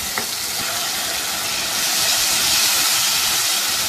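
Mutton liver frying in a pan gives a steady, dense sizzle and hiss that swells slightly midway, with a faint utensil tap near the start and no voices.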